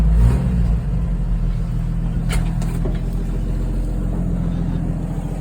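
An old car engine idles at raised revs during an oil change, a steady low rumble running close and continuous throughout, with a brief louder burst at the start.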